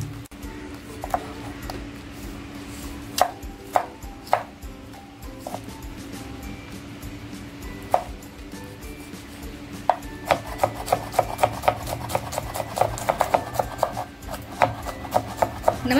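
Ginger, garlic and red chillies are pounded and ground for a pomfret chutney, making scraping, rubbing strokes with sharp knocks. The knocks are sparse at first and grow quicker and more regular toward the end, close by with no talk.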